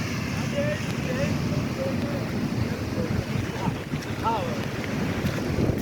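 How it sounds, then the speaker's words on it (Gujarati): High-tide sea water at Daman surges and washes heavily across a road, with rumbling waves and gusty wind buffeting the microphone. "આજે દમણ બહુ જોરમાં દરિયાની ભરતી જો આ રોડ પર આવી ગઈ"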